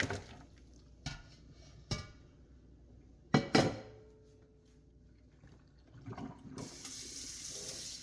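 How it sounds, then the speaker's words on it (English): Salted boiling water poured off boiled beef for pho in a home kitchen sink: sharp clanks of a pot and dishes, a splashing pour, then a steady rush of running water near the end. "Now she's draining that salt water off"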